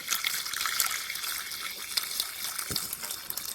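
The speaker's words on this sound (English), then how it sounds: "We're gonna add the whole milk and keep whisking continuously" Warm whole milk pours in a steady close stream into a lasagna sauce while it is whisked, a continuous liquid gush with small splashy bursts and no talking.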